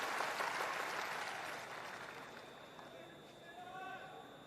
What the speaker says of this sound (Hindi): एक बार जोरदार ताली बजाकर इनका अभिवादन तो कीजिए।